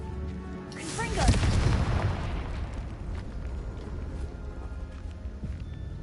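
A Confringo fire spell detonating in Hogwarts Legacy, one deep booming blast that swells and rumbles away over several seconds, with a voice shouting just before it.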